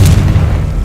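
Confringo fire-blast spell explosion in Hogwarts Legacy, a loud, dense low boom that rolls on for under a second with a rumbling tail.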